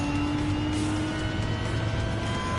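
A hypercar engine racing in Gran Turismo 7, a loud, sustained high-revving drone with steady tonal harmonics and road rumble, holding at constant intensity throughout.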